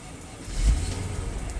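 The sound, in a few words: Mercedes car engine starting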